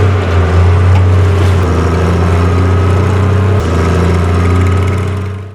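Loud, steady drone of a tractor engine running in a video game, a low throbbing hum that shifts pitch slightly and fades at the end.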